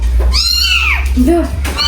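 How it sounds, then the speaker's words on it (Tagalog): A cat lets out a couple of short, close meows, one higher and drawn out, the other brief and lower, with faint voices around. "may nakita kami dito mga pusa"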